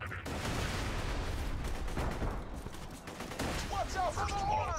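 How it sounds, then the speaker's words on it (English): Mortar and gunfire explosions in the video game Borderlands 2, dense and continuous for several seconds, loud and close, with a brief electronic warning tone near the end. "Watch out for the mortar, Slab!"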